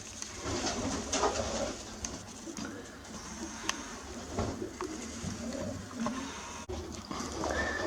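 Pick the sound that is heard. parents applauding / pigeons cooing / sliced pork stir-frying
pigeons cooing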